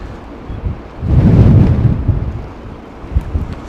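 Storm Kathleen's strong wind at Heathrow Airport buffets the microphone in a deep rumbling gust that swells and fades, with rough low bumps around it.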